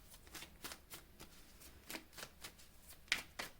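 Tarot cards handled and drawn, a run of quick soft papery flicks and riffles in an irregular rhythm, close and fairly quiet.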